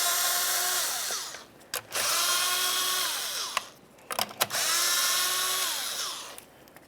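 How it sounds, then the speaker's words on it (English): Power tool whirring in three sustained bursts as 7mm bolts come off a 2001-2005 Ford Explorer Sport Trac during AC compressor work, with short clicks and pauses between bursts, close and fairly loud. "you have three 7mm headed bolts. Go ahead and remove all three,"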